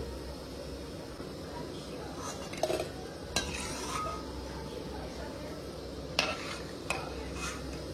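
Food fries quietly in a pan, a low continuous sizzle broken by a few sharp clinks and scrapes of a utensil, with muffled voices in the background.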